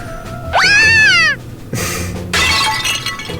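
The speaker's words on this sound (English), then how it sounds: "As a blunt projectile shatters noisily against the floor behind us, Makina and I flee at a sprint." A blunt projectile smashes against the floor with a loud breaking crash, following a sharp rising animated cry, then a second burst of scattering debris.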